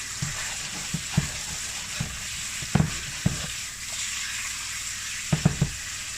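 Tofu stirred and heated through in a sizzling pan during braising, a steady sizzle under repeated spatula scrapes and taps, with a close cluster of clacks near the end.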